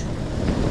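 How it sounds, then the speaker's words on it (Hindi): Steady, rushing wind buffets the microphone with a low rumble on a morning ride in Neelam Valley, loud and continuous for a brief moment. "हवा चल रही है"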